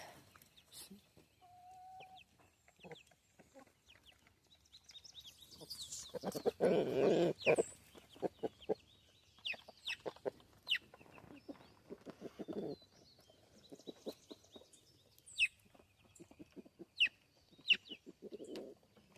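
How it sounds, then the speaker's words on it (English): Rooster clucking among young chickens in a backyard coop, short clucks and calls scattered through the clip with a louder burst of activity in the middle; no talking. "That one's a rooster."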